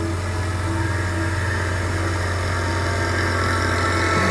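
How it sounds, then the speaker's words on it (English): A lawn mower engine running steadily at a constant droning pitch, loud and close with a continuous low hum and no breaks. "Give myself room to turn the mower around."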